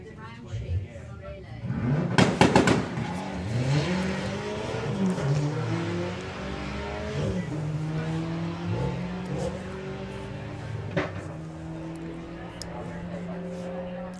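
Nigel Gregson's VW Golf launches on a drag strip at Santa Pod, its engine revving hard through rising gear pulls with a sharp burst of tire noise, then fading under continuous commentary from a track announcer.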